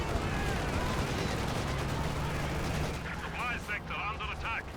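Shock troops exchanging gunfire in the video game Company of Heroes 2, with dense bursts and rattling shots under steady battle noise, while a voice talks over it.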